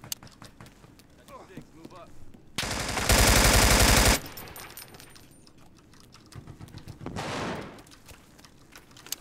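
Automatic gunfire in PUBG rips out as one loud, dense burst lasting about a second and a half, with a quieter flurry of shots a few seconds later, set against low background game noise.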